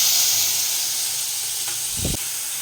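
Onion paste frying in hot oil sizzles with a steady, close hiss throughout, broken by a brief low thump near the end.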